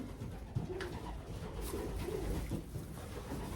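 Racing pigeon cooing softly and repeatedly, a few low rounded coos rising close by over a steady background hiss, with no talk.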